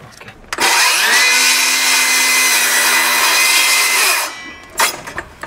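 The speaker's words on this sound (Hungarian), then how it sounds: "Kézikörfűrész, akkumulátoros, hadd szóljon." Cordless circular saw cutting through a wooden batten on a roof structure: a loud, steady high whine as the blade runs through the wood for about three and a half seconds, then spinning down, with a few clunks after.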